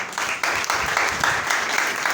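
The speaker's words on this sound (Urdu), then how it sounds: "اور میں سب کو پاسٹر آصف صاحب کو اسٹیج پہ بلانا چاہتا ہوں آپ کی تالیوں میں" An audience claps in loud, sustained applause welcoming a pastor to the stage at a church gathering, dense and close with a few swells.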